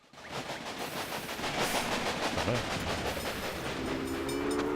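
Trains in the rail-management game Railway Empire run along a line with a steady rumbling rattle and clatter throughout, fairly faint overall with a rising tonal hum near the end.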